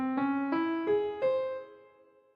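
Four notes rise one after another in a clean, sustained melodic tone, spelling out the four-tone Dalic scale, each note ringing on and then fading away alone.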